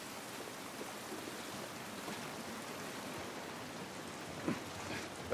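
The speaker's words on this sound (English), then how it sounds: "This rain ain't gonna do us any good" Steady rain in the video game The Last of Us Part 1 hisses evenly throughout, a dense wash of falling water with a couple of brief louder patters near the end.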